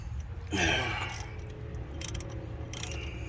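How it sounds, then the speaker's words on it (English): Tightening an axle nut on a 2007–2015 Mazda CX-9 during knuckle assembly replacement produces a brief metallic ratcheting scrape followed by faint clicking over a steady low background hum. "Start tightening some things up. Let's start with the axle nut here."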